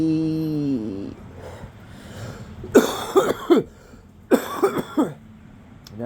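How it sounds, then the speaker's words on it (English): A man coughs in two close bursts of three or four harsh, loud coughs each, near and alone after a brief hum of a voice. "Now I'm gonna cough."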